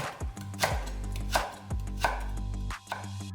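Knife slicing whole garlic cloves and carrot into thin pieces on a cutting board, four sharp, evenly spaced chopping thuds close by, each a crisp impact, with no talking.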